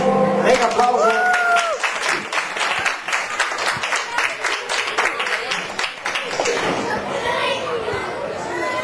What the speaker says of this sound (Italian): Mega applauso.